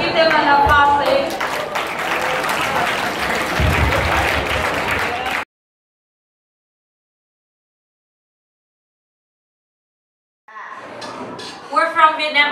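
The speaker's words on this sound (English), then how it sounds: "Give them an applause, please" School audience at an international school climate action event applauds loudly for about five seconds, dense clapping with cheers, then silence before voices and talk resume.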